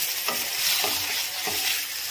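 Ginger garlic paste frying in hot oil for Telangana-style egg curry, a continuous close sizzle broken by three soft stirring scrapes.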